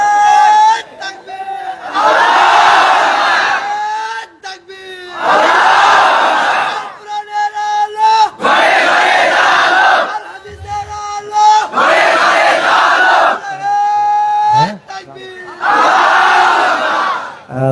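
Large crowd at an Islamic sermon shouting a takbir chant in loud, repeated bursts, about five surges of massed voices separated by brief pauses, with a voice heard between them.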